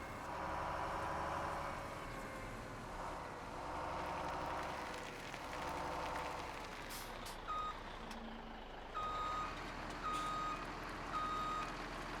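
Truck reversing beeps from a vehicle in Farming Simulator 17, a short series of evenly spaced tones heard over a steady engine rumble and background game ambience, with no voices.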